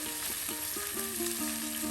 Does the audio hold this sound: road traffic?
no